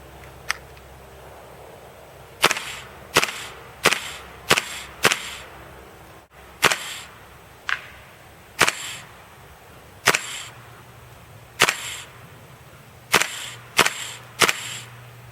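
A KWA LM4 PTS airsoft rifle fires semi-automatic shots at distant outdoor range markers: about a dozen sharp, crisp single pops, spaced irregularly and heard close and alone.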